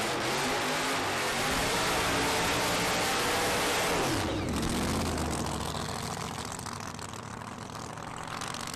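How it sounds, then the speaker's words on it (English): A supercharged big block Chevy nitro funny car engine roars at a dragway, a dense, loud, rough drone that swells and then drops into a falling sweep before settling to a lower, fainter rumble. "I can hear Supercharger."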